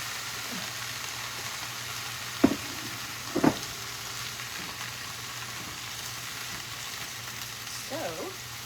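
Zucchini, cherry tomatoes and yellow summer squash sizzle softly in a pan, a steady faint frying hiss with a couple of clinks from utensils.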